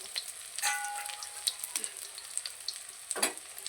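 Egg and jute leaf fritters sizzle steadily in a pan of hot oil, with a few soft clinks and scrapes as pieces are flipped one by one.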